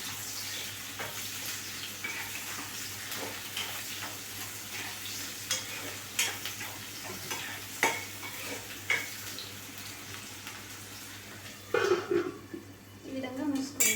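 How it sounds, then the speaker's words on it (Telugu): Onions and green chilies frying in hot oil in a home kitchen, a steady sizzle with intermittent stirring scrapes and clinks, growing louder near the end, with a voice faintly present. "ఆనియన్స్ అనేది ఆయిల్లో బాగా ఫ్రై అవ్వాలి"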